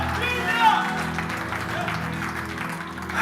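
A church congregation applauds during a Portuguese-language worship service, the clapping blending with sustained music and a voice speaking over it.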